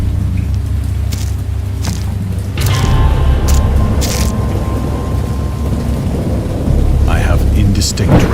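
Heavy rain pours steadily while thunder rumbles and booms close by, with sharp cracks breaking through the constant downpour.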